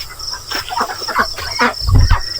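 Several short, throaty native chicken clucks close by on a farm, rising and falling in a loose run over a busy outdoor background, with a low thump near the end.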